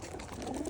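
Pigeons kept for a bird toss coo in a low, continuous murmur, close by and steady, with no talk.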